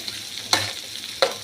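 Rice frying in a pan for a vegetarian papaya curry (ghonto), a steady low sizzle broken by two sharp scraping stirs, close and fairly loud with no voices.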